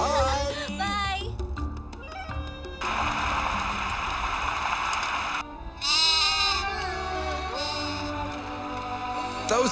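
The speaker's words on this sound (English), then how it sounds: "Those goats over there are probably the wealth of the entire village." Goats in a village in Mali bleat repeatedly in wavering, nasal cries, several animals calling close by over an outdoor background, with people talking in between.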